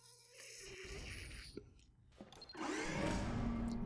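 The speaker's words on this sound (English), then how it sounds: "You hear that delicious gurgling sip?" A gurgling, slurping sip of root beer taken close to the mic, noisy and breathy, rising into a longer loud slurp near the end over a low background hum.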